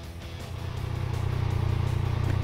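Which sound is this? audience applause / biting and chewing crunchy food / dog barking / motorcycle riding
motorcycle riding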